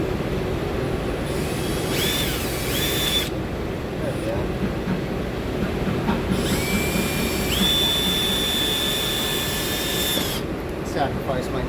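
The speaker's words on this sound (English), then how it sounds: "So I'm going to drill a pilot hole right in the middle" A power drill whines at close range in several bursts while drilling a pilot hole in a floor, its pitch rising as it bites in, with low-level talk and shuffling underneath.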